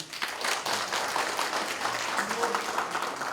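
Broadband crowd applause at an association general meeting, a steady wash of many hands clapping at moderate volume, continuing throughout with faint voices underneath.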